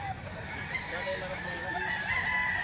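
A young stag rooster crows nearby among other fowl, its drawn-out call rising above a steady bed of farmyard noise and faint clucking.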